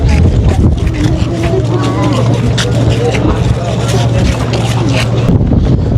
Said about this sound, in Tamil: எவ்வளோ பெரிய போட் உண்டு